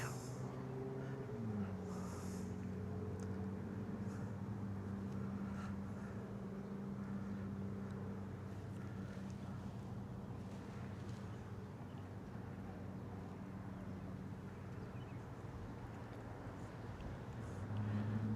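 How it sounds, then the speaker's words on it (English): A Royal Enfield Classic 350 motorcycle is ridden with its single-cylinder engine humming steadily throughout, wind rushing over the rider, and the engine note shifting in pitch near the start and end. "This is how the Classic 350 is as I'm riding it today."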